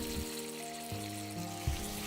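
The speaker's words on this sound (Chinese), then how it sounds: "就放进鸡腿，皮朝下煎至金黄色" Chicken thighs fry skin-side down in oil over low heat. A quiet, steady sizzle runs throughout, with a few brief clinks or stirring knocks and a low background hum.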